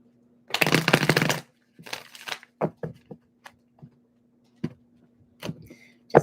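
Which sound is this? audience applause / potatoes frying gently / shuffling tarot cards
shuffling tarot cards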